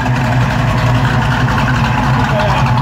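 A Chrysler 440 V8 muscle car engine of 7.2 litres idles loudly and close, a deep steady rumble with a lumpy low-end throb and no break.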